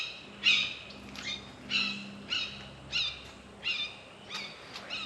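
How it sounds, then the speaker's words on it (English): A bird calls repeatedly in agitation, with about eight sharp, high, evenly spaced cries over a low steady background hum and no speech. "Bird's freaking out."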